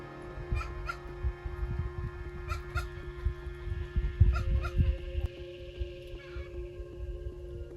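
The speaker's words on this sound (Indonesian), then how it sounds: "Memang ada ayam anjing." Chickens cluck and a dog makes short calls in repeated bursts on a trail up Mount Batukaru in Bali, heard at moderate distance over a low rumbling background.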